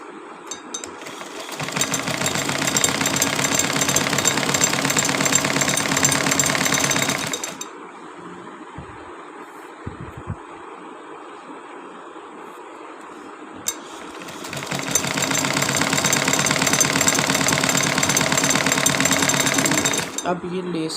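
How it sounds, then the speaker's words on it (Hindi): A sewing machine stitches a folded lace hem on fabric in two long, loud, steady runs with a quiet gap between them where soft handling sounds occur. "आज की वीडियो में आपको सिखाना भी था कि यहाँ पे आप सिलाई भी लगा सकते हैं"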